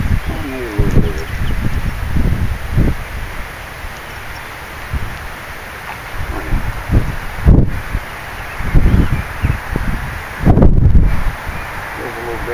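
Gusty wind buffets the microphone while bank fishing for catfish and perch, coming in rumbling bursts that rise and fall, with someone talking over it and faint birds in the background.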